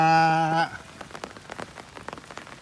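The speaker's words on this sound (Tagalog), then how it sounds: "biglang dumilim ng gusto at lumakas na po ang ulan" A steady tone cuts off, leaving the patter of heavy rain on a surface at a farm, irregular drops tapping close by at moderate loudness.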